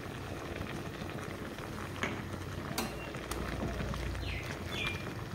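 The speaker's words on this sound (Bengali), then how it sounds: "তো এখন আমি আরও 10 মিনিটের মতো সিদ্ধ করে নেব লাউ ডুগার সাথে।" Bottle gourd stems simmer with vegetables and turmeric in a vegetarian curry, giving a faint, steady low bubbling with a few soft clicks throughout.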